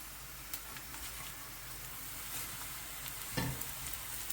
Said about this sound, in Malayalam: ഇതിനകത്തേക്ക് നമുക്കിനി കറിവേപ്പിലയും കൂടി ഇട്ട് കൊടുക്കാം.